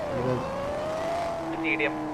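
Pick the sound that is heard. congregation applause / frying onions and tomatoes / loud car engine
loud car engine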